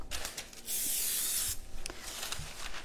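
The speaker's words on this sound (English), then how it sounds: "I'm just going to put a little cooking spray on the edges of my pan." Cooking spray hissing onto the edges of a pan in a long steady burst, near and fairly loud, followed by quieter handling and clicking noises.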